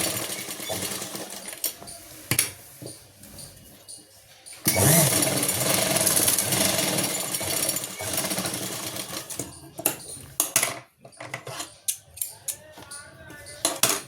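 A domestic sewing machine stitches a pocket onto palazzo pants, its rapid mechanical whirring running in bursts of varying length with short pauses, close and moderately loud, while someone talks over parts of it.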